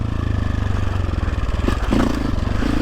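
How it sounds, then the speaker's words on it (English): Sherco 450 SEF enduro motorcycle on a green lane, its engine stumbling and cutting out as it runs, a steady close mid-pitched drone with irregular dips and rattly clatter throughout. "So the bike's trying to cut out."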